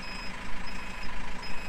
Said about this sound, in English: you can hear the audible alarms going as well